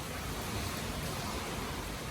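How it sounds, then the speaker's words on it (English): Steady rain falls outdoors over a cleared, raked yard, a dense continuous hiss of drops that stays even and fairly loud throughout with no gaps or voices. "There comes the rain falling after I rake up."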